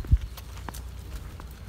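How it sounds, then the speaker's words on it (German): Wild horses roam freely around a quiet marina, with one distinct low hoof thud near the start followed by a few faint, scattered clip-clops over soft background noise. "Und hier gibt es sogar wilde Pferde."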